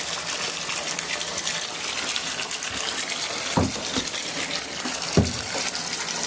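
Water gushes steadily from a tap into a tub where dry FloodSax flood bags soak, a continuous close hiss with a couple of brief splashes or knocks partway through.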